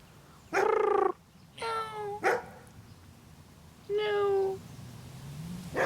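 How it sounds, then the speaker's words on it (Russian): A cat meows loudly several times nearby, drawn-out tonal cries with a rising, wavering pitch against a low background hiss. "Это кошка."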